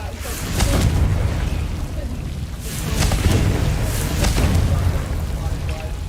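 Blasting spell explosions in Hogwarts Legacy: loud, muffled booms and bursts rolling one after another over a rumbling game background.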